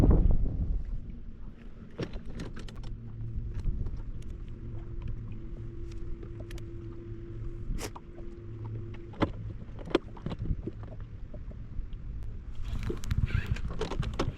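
Wind gusting across a lake during crappie fishing as a cold front pushes in, a steady low rumble of microphone buffeting with intermittent boat knocks and small handling clicks, continuing alone without talk.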